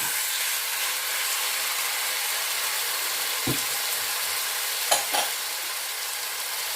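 Chicken pieces fry and sear in a hot pan with a steady, close sizzle, broken by a few soft clinks and scrapes of stirring.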